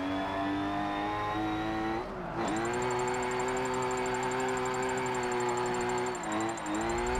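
Steady high-revving engine drone of a drift build in Forza Motorsport 7, held loud and continuous with brief throttle dips and pitch wobbles as the car slides, no speech.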